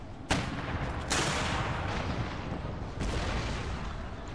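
An infantry regiment fires musket volleys in Empire: Total War. Three sharp, loud cracks ring out close together, each trailing into a long rolling rumble of battlefield noise.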